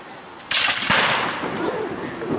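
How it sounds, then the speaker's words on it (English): A musket misfires at a battle reenactment skirmish, a short sharp pop followed by a second louder burst of crackling discharge, heard at moderate distance with outdoor background. "We have a lady with a misfiring musket."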